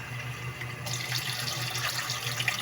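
Tap water pours steadily into a cooking pot for chicken tinola, a close continuous splashing rush that grows fuller partway through, with no talking.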